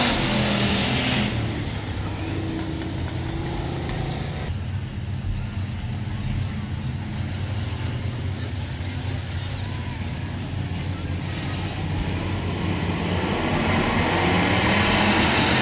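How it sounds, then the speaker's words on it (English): Race cars roaring around a dirt oval track during a heat race, a loud sustained engine drone from a pack of cars that swells toward the end, with an announcer talking over it. "quite a battle as they head down the back straightaway"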